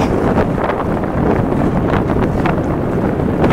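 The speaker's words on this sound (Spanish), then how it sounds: "Este sudeste deben estar soplando 18 nudos" Strong southeast wind of about 16 to 18 knots roars loudly and steadily across the microphone aboard a sailboat, a continuous close buffeting rush with no talk.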